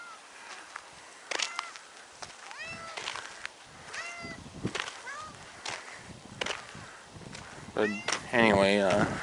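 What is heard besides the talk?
cat meowing, begging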